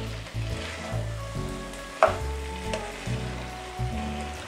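Bhindi (okra) with onion and a splash of lemon juice frying uncovered in a pan, a close steady sizzle with a sharp clink near the middle and a few soft stirring bumps, no talk.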